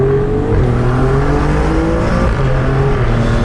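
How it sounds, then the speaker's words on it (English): An Infiniti VR30 with its exhaust opened in race mode revs hard near a street tuning event in Austin, Texas, a loud, continuous engine drone with rising and falling pitch and no talk over it. "The race mode opens up the exhaust too, so you can really get to hear it."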